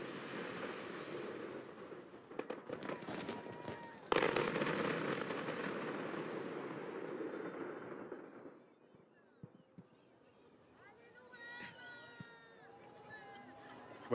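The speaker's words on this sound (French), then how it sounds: "Voilà, les feux ont été tirés." Fireworks go off at the Olympic flame's arrival in Marseille's old port, heard as a dense run of loud crackling bursts and bangs that fades into quieter scattered pops and whistles amid crowd noise.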